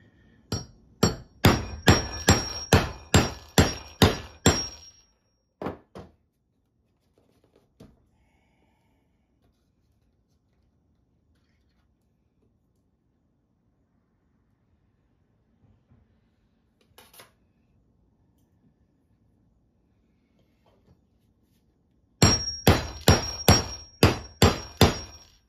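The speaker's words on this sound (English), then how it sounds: "You're trying to keep your punch in the center of the belt too" A leather punch hammered through a belt, a quick series of sharp metallic blows at the start, a long quiet stretch, then another rapid run of hammer strikes near the end.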